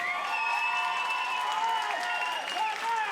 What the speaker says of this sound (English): Ladies and gentlemen, a huge round of applause for these two.